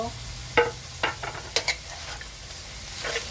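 Okra and fresh green chilies tipped into a hot pan, giving a few separate stirring scrapes and brief sizzles over a low steady hum, fairly close and moderately loud.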